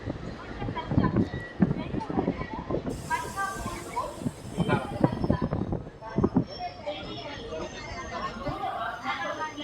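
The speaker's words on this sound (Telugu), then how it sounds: "డోన్ జంక్షన్కి మన ట్రైన్ చేరుకుంది." Guntakal passenger train pulling into Dhone Junction, with a steady rolling rumble and hiss and a busy clatter of wheels, while people chatter loudly over it and nearby.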